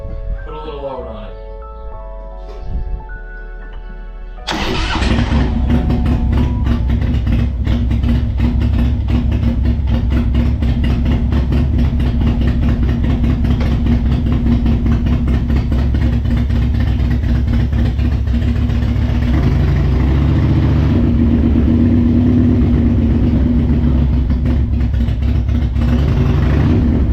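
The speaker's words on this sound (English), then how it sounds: "I'm gonna keep the front brake on, let the clutch out, give it some gas, put a little load on it." A Harley Davidson motorcycle with an electrical fault that keeps it from staying running fires up after a few quiet seconds. It then revs hard under load against the front brake with the clutch out, loud and continuous throughout.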